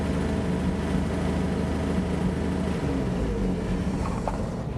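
A 1950 Chevy flatbed truck engine idling close by, a steady low rumble running evenly throughout with no talking over it.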